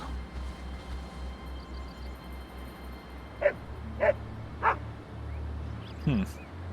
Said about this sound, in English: We'll hit the guard dog.